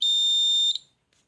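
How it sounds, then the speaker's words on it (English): A DC piezo buzzer driven as a high-frequency oscillator gives a loud, steady, piercing electronic tone close to the mic, holding for about three quarters of a second before cutting off sharply, with no talk. "Okay, so that is what an actual buzzer, a DC buzzer, sounds like"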